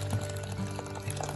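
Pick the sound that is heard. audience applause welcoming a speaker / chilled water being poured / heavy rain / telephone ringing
chilled water being poured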